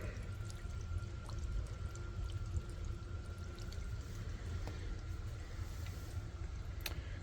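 Water drains from a pool pump during winterizing, a steady low trickling pour with scattered drips, faint and continuous throughout without talk.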